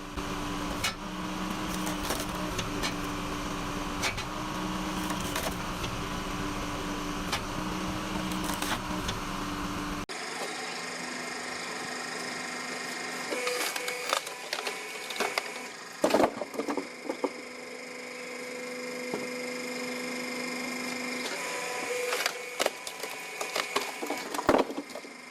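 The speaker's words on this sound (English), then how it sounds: "slices through the wood fibers, cleaving the trunk into multiple slender strips" Hydraulic wood splitter, a red SplitX 450 with a 5-tonne Yanmar engine, driving its blade through a log and cleaving the trunk into slender strips, heard as a steady mechanical drone with creaks and cracking bursts, no voices.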